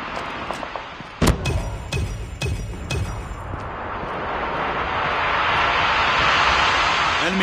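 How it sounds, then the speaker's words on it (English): An aircraft engine drone roars steadily from a hunter killer drone flying overhead in a video game match, several sharp impacts and bursts punctuating the start before the engine noise swells and holds loud and continuous. "Friendly hunter killer drone deployed."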